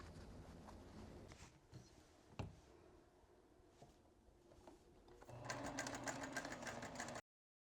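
A sewing machine stitching a quarter-inch seam on an Irish Chain quilt, a faint steady mechanical whir with a light clunk partway through, rising in speed and loudness toward the end.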